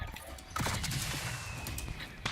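Bursts of gunfire from Call of Duty Warzone crackle at a moderate distance, several rapid shots overlapping into a busy, noisy battle bed with no voices over it.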